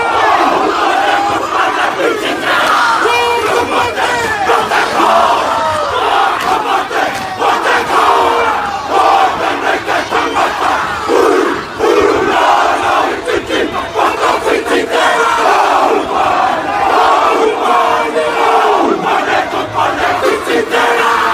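A large stadium crowd chants a New Zealand war cry in loud, rhythmic unison, with shouted bursts rising and falling over about twenty seconds of dense crowd noise.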